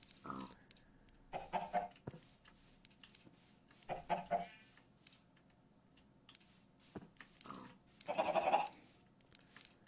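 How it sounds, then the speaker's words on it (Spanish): Chickens in the video game Minecraft, several short bursts of clucking and bleat-like calls spaced a few seconds apart, fairly close, with soft clicks and background noise between them. "Por aquí hay otro pollito."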